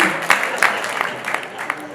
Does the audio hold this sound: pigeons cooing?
no